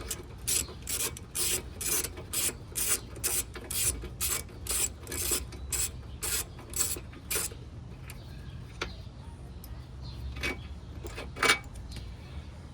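Wrench ratchet clicking in a quick repeated run of about fifteen sharp strokes while loosening the axle nut on a Honda GL1500 Goldwing rear wheel, close and fairly loud, then a few sparse clicks and quieter shuffling.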